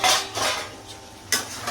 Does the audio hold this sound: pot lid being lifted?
yes